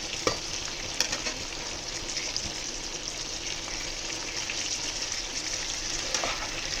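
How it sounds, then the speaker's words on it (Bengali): Chicken for ghee roast stirred and lightly fried in a pan, a steady close sizzle with occasional scrapes and clinks of the spoon throughout, no talking. "একটু নাড়িয়ে হালকা ফ্রাই করতে হবে"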